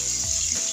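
Beans dropped into vegetables frying in a pan for khichuri, giving a loud, steady sizzle up close with no pause.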